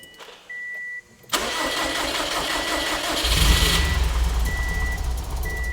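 A built Subaru STI engine cranks and fires for the first time, a rough mid-pitched idle swelling louder as it catches, with a steady electronic beep tone chiming on and off nearby.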